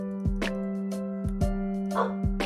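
A dog in an animal shelter video game barks several times in short, evenly spaced yaps, clear and close over a steady humming game soundtrack, with no talk.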